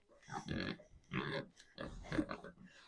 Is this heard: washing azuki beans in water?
no